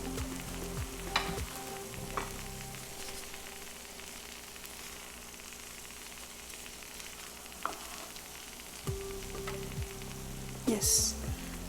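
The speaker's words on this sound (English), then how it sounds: "I'm going to take off the lid and see if our khichdi is done." A pot of dry shrimp khichdi with potatoes and rice simmers with a soft, steady hiss, broken by a few faint clinks, then a brief metallic scrape near the end as the lid comes off.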